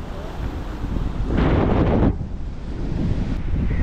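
Sea waves roll in at a beach near Auroville, Pondicherry, on a big new-moon day. A constant windy wash rises into one louder surging break midway, then settles back.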